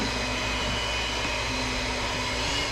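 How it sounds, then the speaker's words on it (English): An electric mixer runs in a kitchen bowl of food seasoned with garlic powder, giving a steady, close motor whir and hum that holds unbroken throughout. "You don't mind using that mixer now."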